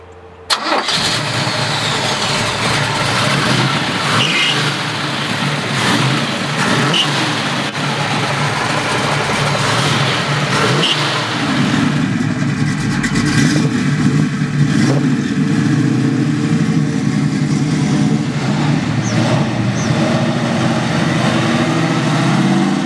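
A 1968 Chevrolet Camaro 427 RS/SS clone with a 4-speed cranks and fires up, then holds a loud, deep, rumbling idle with rises in revs, close by and heard alone.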